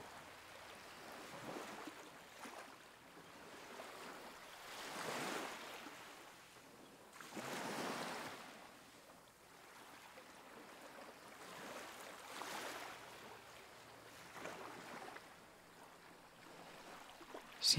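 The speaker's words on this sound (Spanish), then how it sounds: "puedes disfrutar del sonido del mar como una canción de cuna" Sea waves wash in slow, soft swells that rise and fall every few seconds, faint and distant, with no voices.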